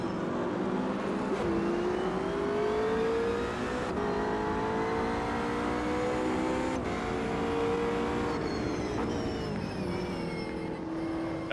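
Race cars, including a McLaren 720S GT3, battle side by side in a video-game race at the Nurburgring GP circuit. Engines roar loudly and continuously, revving and shifting gears with layered whining notes and no talk.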